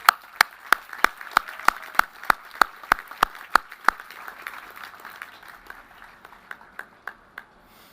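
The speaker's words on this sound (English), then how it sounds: "let's give them a round of applause" Sharp, evenly spaced claps ring out at a college graduation ceremony, crisp and prominent at first, then thinning into fainter, sparser claps toward the end.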